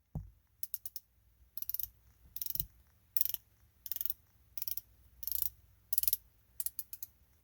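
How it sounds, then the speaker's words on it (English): A Citizen Godzilla dive watch's 60-click unidirectional steel bezel is turned in quick bursts, each a rapid run of crisp, close ratcheting clicks, separated by short pauses, with no talking. "A 60-click unidirectional bezel that has a nice action."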